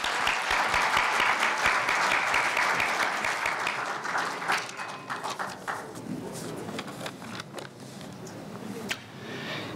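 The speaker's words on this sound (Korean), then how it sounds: "모두 큰 박수로 환영해 주세요" Audience applause at a Korea University student newspaper's 70th anniversary ceremony, a dense sustained wash of many hands near the start that gradually thins into scattered claps before fading out.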